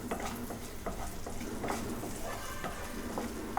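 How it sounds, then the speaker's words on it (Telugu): Bay leaf, cinnamon stick and cloves fry in melted butter for an egg butter masala, giving a steady soft sizzle with repeated light scrapes of a spoon stirring in the pan. "వీటిని కూడా కొంచెం వేగనిద్దామండి"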